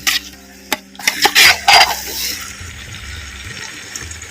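Chicken being turned in masala and oil in a pan for a Karaikudi Chettinad village-style chicken gravy, with a quick burst of clanking spoon-on-pan strokes and wet stirring up close, fading to a quieter simmering background.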